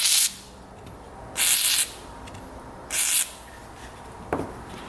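WD-40 sprayed in three short hissing bursts into a 4x4 ATV's starter area, each about half a second, fairly close, with quiet pauses and a faint metallic tap near the end.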